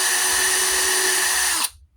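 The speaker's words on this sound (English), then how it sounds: "Drill a small hole just to help the screw get started." A power drill whines steadily while boring a small pilot hole in wood, loud and close with a high, even motor tone, then spins down abruptly near the end.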